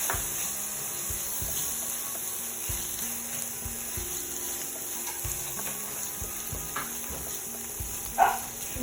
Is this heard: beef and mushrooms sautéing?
yes